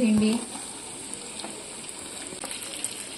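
Ginger-garlic paste sautés in a hot pan for dhaba-style aloo bhindi, a steady close sizzle and crackle with a voice talking faintly over it.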